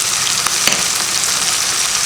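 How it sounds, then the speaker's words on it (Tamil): Onion, coconut and tomato sautéing in a pan, a steady loud sizzle with a few sharp pops and spatters, alone without talk. "இதெல்லாம் நம்ம வதக்கி அரைக்க போகிறோம். வெங்காயம், தேங்காய், தக்காளி வதங்கினதும்"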